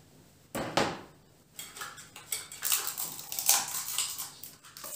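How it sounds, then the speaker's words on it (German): A lobster carcass hits a very hot pan with vegetable oil to roast, giving sharp clattering knocks of shell against metal followed by a busy crackling sizzle, close and fairly loud. "jetzt rösten wir die Hummerkarkasse"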